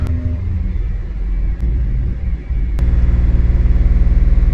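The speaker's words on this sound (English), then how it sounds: "We're going to bump our RPMs just above 2000" A car engine rises from idle to just above 2000 RPM during a scan-tool test, a low rumble that steps up into a steadier, louder drone partway through, with a couple of sharp clicks; no talking.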